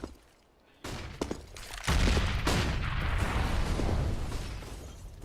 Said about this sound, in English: Initial flashbangs and such.